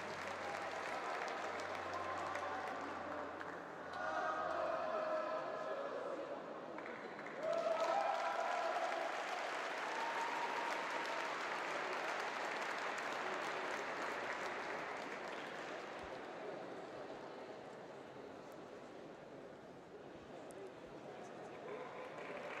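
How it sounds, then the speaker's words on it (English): Audience applause at the IFSC Climbing World Cup in Edinburgh for the speed medalists, sustained clapping and crowd noise that swells and dips over about twenty seconds, with an announcer's voice over it. "Ladies and gentlemen, once again, a big applause for the IFSC Speed World Cup medalists."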